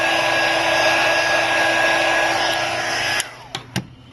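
A heat gun blows a steady, loud whoosh of hot air across a cracked iPhone 5C or 5S screen to soften the adhesive beneath, then cuts off, leaving a few soft handling clicks.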